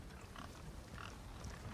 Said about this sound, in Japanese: かわいいよね、豚。